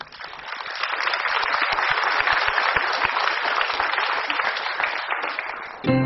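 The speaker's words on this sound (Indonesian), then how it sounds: "Tepuk tangan untuk Anda semua." Studio audience applause on an Indonesian television talk show fills the clip loudly and steadily, a dense wash of clapping from many hands that holds for about six seconds before a sharp burst at the end.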